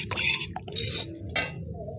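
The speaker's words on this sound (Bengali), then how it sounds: "এবার ভালো করে মিশিয়ে নেব।" A spoon stirring a bamboo biryani mixture laced with kewra water and sweet attar: three short bursts of metallic scraping and clinking against the vessel, close and moderately loud.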